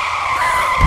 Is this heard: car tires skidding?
yes